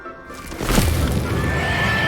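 A mandrake pulled from its pot in the video game Hogwarts Legacy lets out a loud, shrill scream that swells after a quiet start and holds, strained and wavering, until the end.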